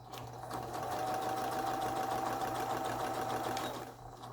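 A Juki industrial sewing machine sewing a zigzag stitch whirs at a steady fast pace for about four seconds, a continuous even mechanical hum with a fine rapid needle rhythm, and no talking.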